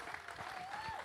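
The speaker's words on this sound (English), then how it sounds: "I think we just need to maybe put our hands together so that she can know that we're waiting for her." Guests at a mehndi night clap together in a short, dense burst of applause. It is moderately loud, with a faint tone and a little crowd murmur underneath.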